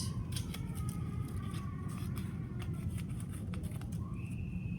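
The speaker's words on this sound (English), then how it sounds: "I'm gonna get mine all cut out." Scissors snip steadily through paper while a child's craft is cut out, a run of quick crisp cuts over a constant low background hum, with no talk.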